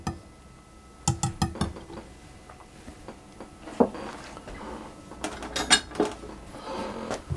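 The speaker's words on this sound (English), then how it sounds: "I'm going to add in my dry ingredients, and I'm going to mix those through" A spoon clinks and scrapes against a bowl in irregular bursts while dry ingredients are stirred into chocolate cake batter, with brief pauses between strokes and no talking.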